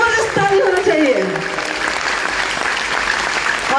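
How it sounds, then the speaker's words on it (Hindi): Loud, dense applause from an audience at a DXN motivational speech, sustained steadily with a few cheers rising over the clapping. "जबरदस्त ताली होना चाहिए"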